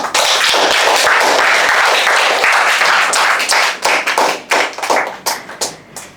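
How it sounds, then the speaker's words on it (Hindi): An audience at an intimate poetry gathering applauds in a full, dense burst that gradually thins into scattered individual claps before dying away. "अपने लिए ही ताली बजा दीजिए"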